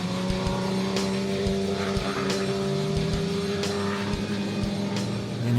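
Several Extreme Supercars race cars roll out onto the Zwartkops circuit, their engines holding a steady, droning hum at low speed with no break or sudden change.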